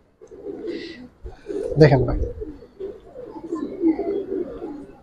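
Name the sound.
giribaz pigeons cooing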